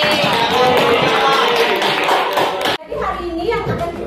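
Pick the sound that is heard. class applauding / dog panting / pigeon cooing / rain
class applauding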